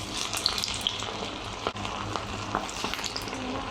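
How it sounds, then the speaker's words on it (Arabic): A batch of chickpeas fries in hot oil with a dense, steady crackle and sizzle, close up and continuous, with no talking. "هسه راح نحط وجبة ثانية حمص، خليها بالزيت"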